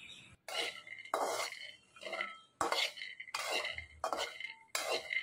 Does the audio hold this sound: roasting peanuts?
yes